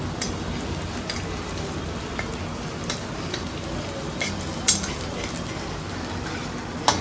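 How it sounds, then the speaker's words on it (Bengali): Chhena fritters (chhanar bora) frying in a pan of oil in a home kitchen, giving a steady, fine crackling sizzle that runs the whole time with a few sharper pops and clinks, close by and without talk. "ছানার বড়া ভাজছে মা"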